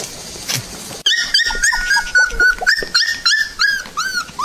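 Puppies about twenty days old cry and whimper in high, wavering yelps, several overlapping in quick bursts close by, loud and insistent with no talk over them.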